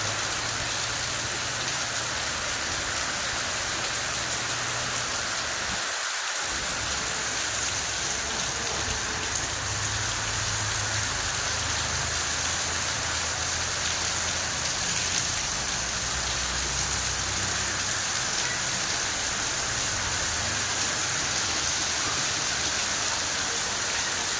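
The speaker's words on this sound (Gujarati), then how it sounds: "જો તો બહુ મસ્ત વરસાદ આવી ગયો" Heavy rain pours down in a dense, constant hiss, steady and close throughout, with a faint low engine-like rumble underneath.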